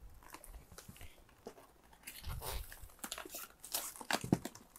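Plastic packaging wrap around a Flesh and Blood trading card game kit is torn open by hand. Irregular crinkling and ripping bursts come up close and fairly quiet, growing busier in the second half.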